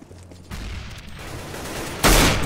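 Gunfire in the video game CS:GO after the bomb has been planted: a sustained burst of shots starts about half a second in and holds steady, then a louder, harsher volley erupts near the end.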